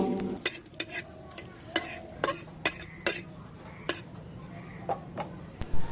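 Whole cumin, dry chillies, a bay leaf and asafoetida frying in mustard oil, a low sizzle under repeated sharp taps and scrapes of a spoon against the pan, close and fairly quiet.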